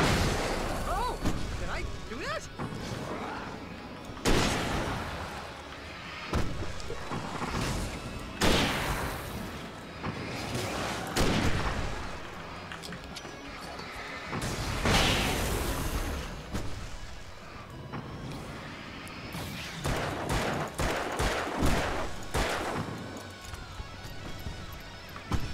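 Fireworks bursting in the video game Alan Wake: a series of loud booming blasts with crackling tails at irregular intervals, close and dominant, with someone talking between them.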